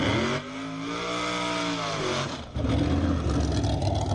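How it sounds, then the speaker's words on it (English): An LS-powered dragster on a drag strip holds a loud, steady engine roar that sweeps upward in pitch, then cuts to a rougher, broad, noisy rumble near the end. "The LS powered dragster does his burnout over on the right hand side"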